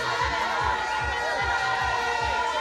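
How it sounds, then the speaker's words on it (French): A crowd gathered in front of a party headquarters in Côte d'Ivoire cheers in euphoria, with a dense mass of voices, chanting and whistles over a rhythmic thumping beat. "crée l'euphorie dans la foule massée devant le siège du parti"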